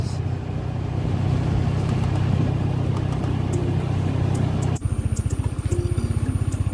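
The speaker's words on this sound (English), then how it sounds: "Driving through the rubber trees." A vehicle engine drones steadily while driving through a rubber tree plantation in Thailand, then shifts abruptly to a pulsing, throbbing idle-like rhythm for the last couple of seconds, loud and close with no talk.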